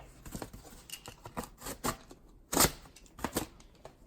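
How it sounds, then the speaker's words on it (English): Scissors cut through packaging material while an eBay order is prepared, giving a few short, crisp snips and rustles spaced irregularly, with one louder cut near the middle, close and alone without talk. "We're just going to cut it."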